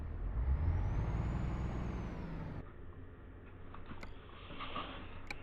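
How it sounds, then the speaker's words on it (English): A Volvo truck engine in the Euro Truck game drones low and steady, with a rising whine and a sharp hiss of air release partway through, followed by lighter clicks. "We'll keep the music out so you guys can hear the new truck sound."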